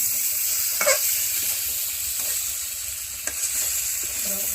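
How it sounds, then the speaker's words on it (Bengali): Fish fries together with spiced masala in a pan, a loud, dense hiss of sizzling with a few stirring clinks and scrapes, close up and continuous with no speech. "আগে মশলা যা কষায় নিছে, এখন মাছ দিয়ে দিচ্ছে একসাথে"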